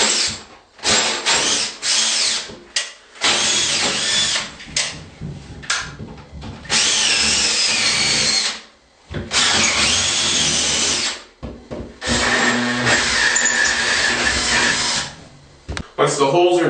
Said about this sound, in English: And then to drill through the Onyx, just be careful not to go into the wood.